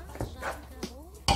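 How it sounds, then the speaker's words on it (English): Okra frying with pepper in a pot for Nigerian ogbono soup, stirred with a utensil that gives a few distinct scrapes and clinks against the pot, close and clear, with a louder clatter at the end. "So I'm just frying my okra and mixing it up with the pepper a little bit."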